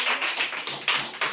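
Applause at a school quiz program: a short burst of rapid, fairly close hand claps, a handful of people clapping unevenly with no voices over it.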